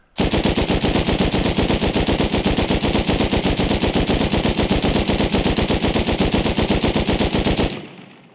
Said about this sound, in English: Okay, so handmade machine gun. I'm just going to ADS. I'm not going to pull down. Here's like a full magazine.